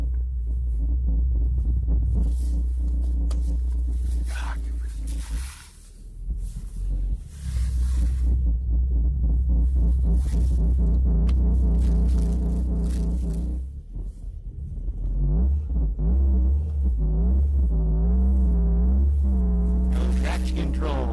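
A 1996 Chevrolet Cavalier engine drones and revs in the snow while making a three-point turn on an unplowed winter road, a steady low rumble rising and falling in pitch with a pause near the middle.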